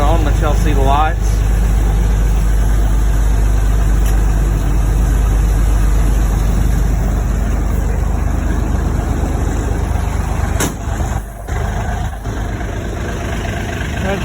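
A 1959 Seagrave fire engine idles with a steady low rumble close by for the whole stretch, a few clicks and knocks over it, and people talk now and then.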